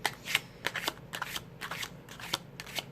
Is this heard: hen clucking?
no